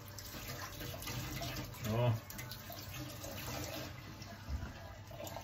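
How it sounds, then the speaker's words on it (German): Motorcycle goggles rinsed under a running tap, a steady hiss of flowing water that swells briefly when the goggles move through the stream, with someone speaking quietly over it. "Und jetzt spülen wir die ganze Brille nochmal unter fließend Wasser schön ab."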